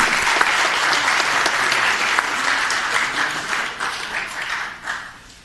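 Applause fills a city council chamber, a dense, loud wash of clapping from the audience that holds steady and then thins and tapers near the end.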